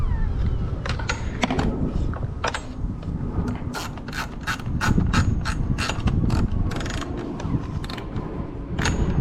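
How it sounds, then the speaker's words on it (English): Ratcheting clicks and mechanical creaks come from a part being screwed back into place during a JB4 tuner install on a BMW X1 M35i, a rapid run of close, dry ticks over low rumbling background noise, with no talking. "we can go ahead and screw that back on"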